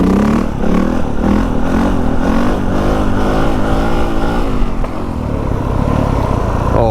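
A new dirt bike engine revs hard and close, its pitch climbing and falling through several throttle blips before a steadier roar, loud and alone without talk.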